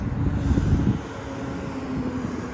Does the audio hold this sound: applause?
no